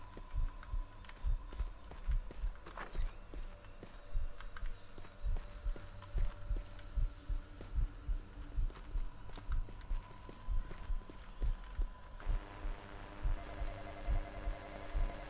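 A Roblox in-game heartbeat thumps steadily throughout, low muffled pulses at a fairly quick, even rhythm, with faint game ambience behind.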